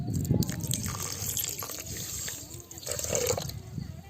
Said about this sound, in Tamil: அதே கப்பில் அரை டம்ளர் நம்ம தண்ணி எடுத்துக்கலாம் இப்போ நான் ஊற்றிக்கிறேன்